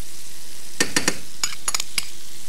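Finely chopped shallots fry in melted butter in a pan, giving a handful of short, crisp crackling bursts spaced irregularly over a quiet background, with no voices.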